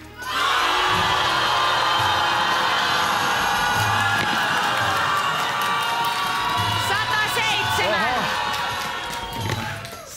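A punk contest crowd roars with sustained, loud booing to vote for Heikki, a dense wall of voices that carries on steadily and tapers slightly near the end.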